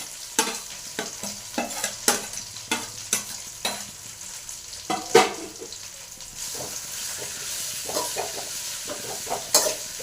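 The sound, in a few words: stirring drumstick leaves frying in tempering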